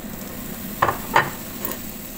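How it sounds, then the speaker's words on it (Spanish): Onion meets melted butter in a hot frying pan: a soft continuous sizzle with a couple of sharper scraping stir sounds, close and moderately quiet, with nobody speaking. "Y ya que se derrita, vamos a echar nuestra cebolla."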